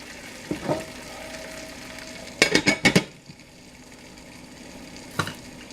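Home fries sizzle in butter in a pan, a steady frying crackle broken by a quick burst of scraping stirs and clinks against the pan, then a final knock.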